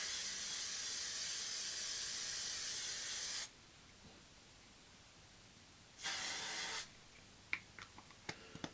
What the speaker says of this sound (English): This one is the 3-second setting mist. It's 36-hour no transfer.